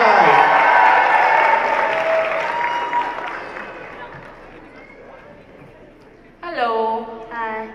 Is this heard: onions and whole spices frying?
no